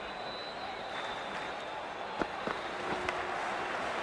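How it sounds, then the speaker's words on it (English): Steady crowd roar fills a cricket stadium during an IPL 2025 match between KKR and RCB, a constant broad wash of cheering with a few sharp claps and bangs standing out around the middle. "already the crowd is up and about"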